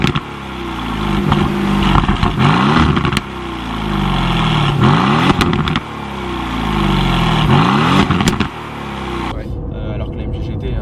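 A 2019 Aston Martin Vantage engine revs hard several times, each loud rising sweep cut by a brief drop between blips, close and raw, ending in a quieter idle, with someone talking over it.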